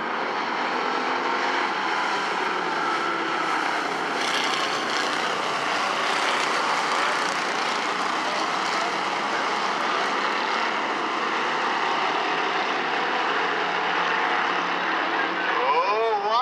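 A field of NASCAR-style bomber stock cars roars off at the start of a race at a bullring short track, a dense sustained engine drone that stays loud and steady, with an announcer talking over it.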